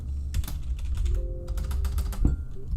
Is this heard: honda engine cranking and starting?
no